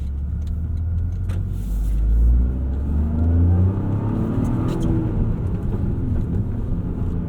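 A 2025 Toyota GR Corolla engine revs up loudly under acceleration, a deep close rumble that swells and eases in waves over steady road noise, with no one talking.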